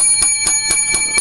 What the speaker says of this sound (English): Wait. Lucky bells.